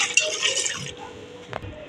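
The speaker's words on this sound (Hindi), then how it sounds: "यहाँ पे 1 गिलास पानी डाल देंगे।" A glass of water is poured into a pot of spiced chicken for shami kebab, making a short splashing gush at the start that soon gives way to faint kitchen clatter and a sharp clink.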